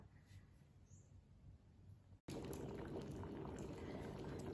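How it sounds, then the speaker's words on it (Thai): Water in a pot bubbles at a steady, dense simmer, quiet at first and then suddenly louder and fuller after a brief cut, with no voices. "น้ำเดือดแล้วนะคะ"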